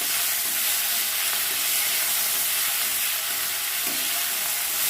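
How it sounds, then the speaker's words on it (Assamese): Ginger garlic paste being stir-fried in oil in a wok gives a continuous, close, even sizzle with soft hissing and occasional faint scrapes of stirring. "এতিয়া এইখিনি লৰাই ভাজিম"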